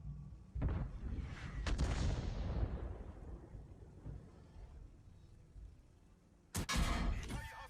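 Artillery fire in the tank game World of Tanks: a deep booming blast with a long rumbling decay, a second shot, then another sharp heavy boom near the end, all fairly loud.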